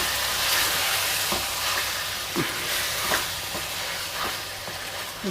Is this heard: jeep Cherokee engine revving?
no